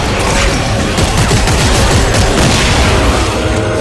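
Rapid, loud weapon fire aimed at a monster's legs in Dead Space 3 co-op, dense overlapping bursts and booms packed close together, continuous and harsh for the whole stretch.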